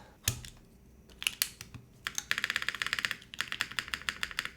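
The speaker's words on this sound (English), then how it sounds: "Sounds like a long pole switch." Close, loud clacking of a mechanical keyboard with long pole switches, a few scattered keystrokes, then bursts of rapid typing with deep, sharp key hits.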